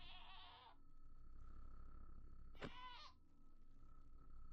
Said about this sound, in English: Oh, we gotta go get this goat.